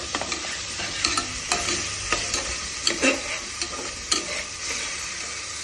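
Crushed ginger, garlic and turmeric sizzle steadily in hot oil in a pan for a Telangana-style mutton curry, with repeated scraping stirs of a spoon breaking through the continuous frying hiss.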